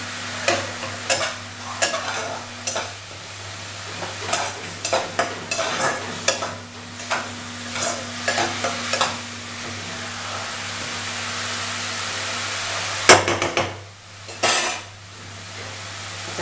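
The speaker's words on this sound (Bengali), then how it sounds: "জাস্ট পেঁয়াজটা একটু ভাজা ভাজা হবে।" Onion paste frying in a pan, a spatula scraping and stirring in quick, rhythmic strokes over a soft sizzle and a steady low hum, with a louder clatter of utensils near the end.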